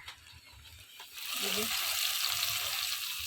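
Spice tempering (phoron) poured into lentil dal cooked with tela kucha leaves, bursting into a sudden loud, steady sizzle after a quiet start.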